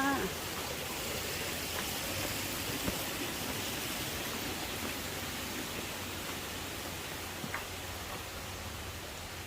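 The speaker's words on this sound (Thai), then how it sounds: "มีน้ำตกตลอดทุกเส้นทางเลยค่ะ" Waterfalls along the Piyamit tunnel route in Betong produce a steady, broadband rushing wash of falling water, constant and fairly faint, with no talk over it.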